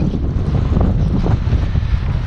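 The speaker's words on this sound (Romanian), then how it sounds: "Urcăm în altitudine, s-a întețit vântul." Strong, steady mountain wind at altitude on the Secătura Arsului–Heniu ridge buffets with a dense, low roar that never lets up, filling the whole moment.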